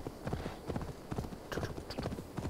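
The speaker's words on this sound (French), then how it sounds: "Petite balade en campagne à cheval." Horse hooves clip-clop steadily on a countryside ride in the video game Assassin's Creed Valhalla, a fairly quiet, even rhythm of many close hoof strikes with game ambience behind.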